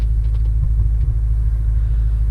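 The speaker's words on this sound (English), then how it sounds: "let's fire her up and I'll talk about the features and give you some exhaust note" An Audi S5 with a 4.2-litre V8 idles after start-up, giving a deep, steady low rumble from the exhaust, loud and close with little variation and no voices.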